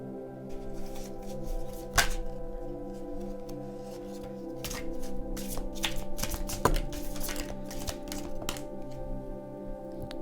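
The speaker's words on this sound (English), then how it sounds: "I'm just going to start shuffling the cards" Tarot cards are shuffled in quick, crisp riffling bursts and soft slaps, close up and fairly quiet, repeating irregularly with no talking.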